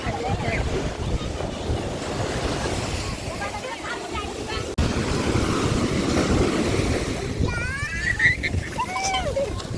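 Waves break continuously on a beach, a broad close rush of surf with strong wind noise over the microphone, while faint voices and chatter drift in the background.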